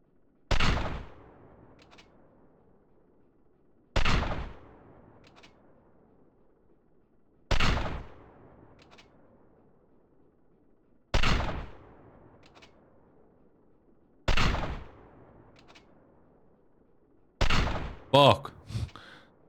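Gunfire in the GTA video game: six sharp, loud shots spaced about every three and a half seconds, each trailing off quickly, the last followed by a brief burst of extra clatter.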